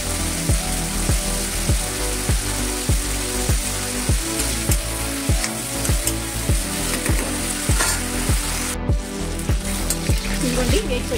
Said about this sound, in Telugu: ఇప్పుడు ఈ మిరపకాయలు మంచిగా ఆయిల్లో ఫ్రై చేసుకోవాలి.